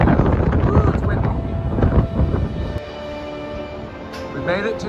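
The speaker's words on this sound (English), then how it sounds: "Ooh, it's windy." Strong wind at the bottom of the Grand Canyon on the Bright Angel Trail near the river buffets the microphone in loud, uneven gusts, easing toward the end, with voices talking underneath.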